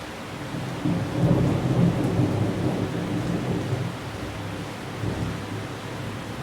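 A rainstorm with thunder: a steady, dense wash of rain falls throughout while low rolling thunder swells and fades underneath, fairly loud and continuous with no voices.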